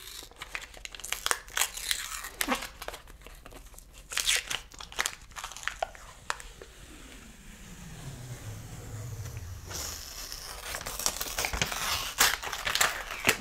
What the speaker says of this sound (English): So I'm just going to peel the paper back.